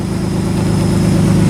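A Nissan 300ZX raised on jack stands idles roughly, its engine loud and close with a steady low rumble and a faint uneven pulsing throughout, with no voices over it.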